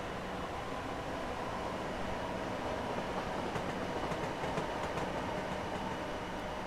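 A BR Class 455 electric train in a train simulator game rolls past in a steady, dense roar of wheels and rail noise, with faint clickety-clack rhythm building slightly midway, no voices.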